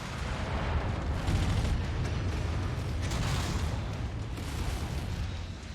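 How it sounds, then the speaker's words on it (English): Loud, sustained rumbling blast from an incoming missile explosion in the MechWarrior 5: Mercenaries mech combat game, dense low booms and mechanical crunching filling the whole stretch with no speech. "Incoming missile."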